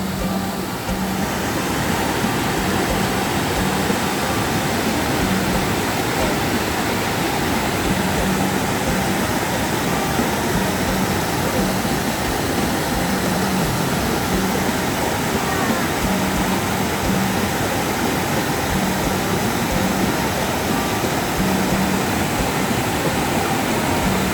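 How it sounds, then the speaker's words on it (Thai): A steady, dense roar of rushing water, unbroken from start to finish, from the Mae Klang waterfall near Chom Thong, Chiang Mai. "เสียงน้ำไหล"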